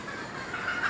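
Chickens cluck and murmur in a dense background chorus, with a faint rooster-like call rising near the end.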